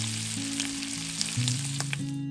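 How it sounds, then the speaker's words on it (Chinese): Hairtail fish pan-frying gently on low heat, a close, steady sizzle of oil with light crackles and occasional soft stirring, no voices over it. "我们先用细火轻轻煎一下芽带鱼，去除它的腥味"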